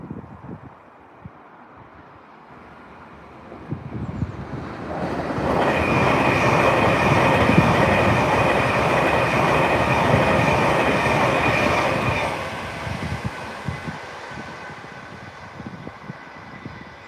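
A Blue Pullman train passes, building from a distant rumble to a loud, sustained roar of wheels and engine with a high whine, then fading away over several seconds.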